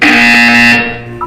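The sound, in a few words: buzzer in the video game Portal 2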